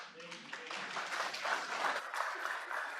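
An audience claps steadily through a speaker's introduction at a climate lecture, a dense mid-distance patter of applause with a voice speaking over it.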